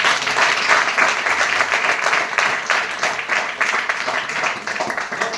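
An audience at a motivational talk claps in a loud, steady burst that lasts several seconds, with a few voices audible beneath it.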